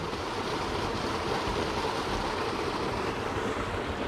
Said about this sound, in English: more streams on top of the ground that come out, and they all converge right here